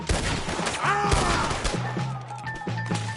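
A chaotic gunfight in Red Dead Redemption 2, dense overlapping shots and impacts over a wagon, loud and close, mixed with shouting voices.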